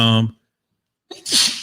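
A person sneezes once, a sharp loud close burst after a short silence, preceded by a brief spoken word.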